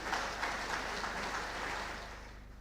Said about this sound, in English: Can we more time please applaud and appreciate Mr.